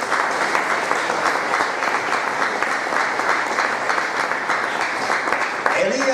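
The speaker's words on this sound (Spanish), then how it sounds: "Le doy un aplauso al Señor." A church congregation claps for the Lord during a sermon, a steady, full round of many hands that runs continuously and fairly loud, with a voice and a brief tonal sound rising near the end.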